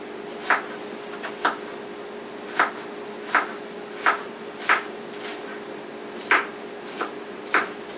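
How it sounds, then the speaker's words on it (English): A kitchen knife slicing an onion thinly strikes the cutting board nine or ten times in a fairly steady rhythm, each chop a crisp, close knock over a quiet hum. "I personally like cutting my onions nice and thin."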